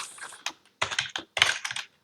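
Bursts of quick key presses on a computer keyboard, close and clear, in three short clusters separated by brief pauses, with no voices.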